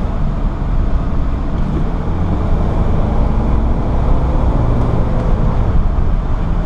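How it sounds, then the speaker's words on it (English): A 2003 Sprinter conversion van with 26k miles cruises down the road, giving a steady, loud low rumble of road and engine noise from inside the cabin with no voices. "Vehicle drives very smooth going down the road."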